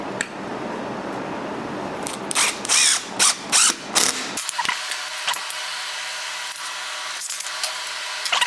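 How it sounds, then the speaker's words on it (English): A power drill whirs and grinds in several short bursts while drilling a hole in wood, then settles into a steadier, quieter mechanical running hum with faint clicks. "So now we've got a place to drill a hole to have a pivot point."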